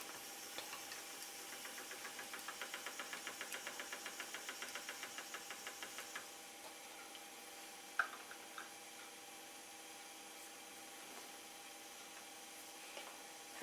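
Spinning wheel treadled steadily while plying a four-ply cabled yarn, a quiet rhythmic clicking of about two beats per second for six seconds, then softer and sparser with a single sharper tick, with no talking.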